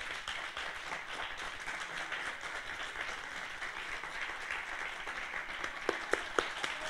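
Steady applause from a live concert audience at Sala SCD Egaña, Santiago, a dense wash of many hands clapping at an even level, with a few sharper claps standing out near the end.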